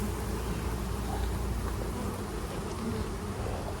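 Honey bees swarm around an open hive in a dense, continuous buzzing hum that stays loud and steady throughout, with no voices.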